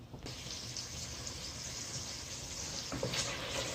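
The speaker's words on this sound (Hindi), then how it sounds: "अब इनसे मैं 4 से 5 मिनट इनको फ्राई करती हूँ, फिर गोभी डालेंगे" Potatoes fry in a pan for aloo gobi, a soft continuous sizzle close by and fairly quiet, with a couple of brief clatters near the start and end and no one talking.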